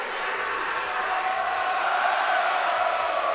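Spectators at an Exeter versus Durham university rugby match in BUCS Super Rugby cheer with a steady, loud, distant roar that holds without a break.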